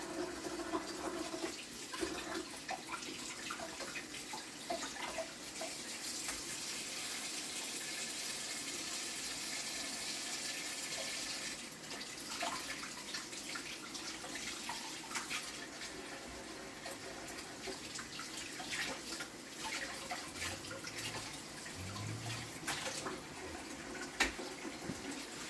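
Tap water runs steadily for a long stretch while a silver bass is rinsed in a home kitchen, with a constant splashing hiss and occasional clatter in the sink.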